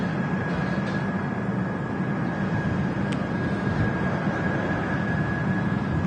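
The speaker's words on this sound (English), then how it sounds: "what looks like a Ryanair 737 coming in" A Ryanair Boeing 737 coming in to land at Manchester Airport gives a steady, broad jet roar with a faint high whine held throughout, a constant distant wash with no talk.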